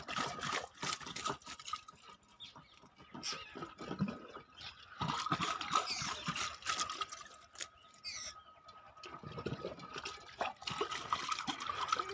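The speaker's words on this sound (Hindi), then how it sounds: "तो चलिए यहाँ पर हम पहले पानी का छिड़काव कर देते हैं।" Water is sprinkled over cow dung heaped for vermicompost, a soft, faint patter and splash in irregular bursts with quiet gaps, outdoors with no one speaking.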